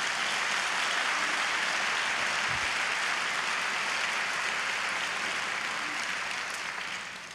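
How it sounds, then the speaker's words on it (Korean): Sustained applause from a church conference congregation for a speaker, a dense, even wash of many hands clapping that holds steady for several seconds before tapering off at the end. "하나님께 그분을 격려하는 기도의 박수를 한번 같이 한번 쳐주길 바랍니다"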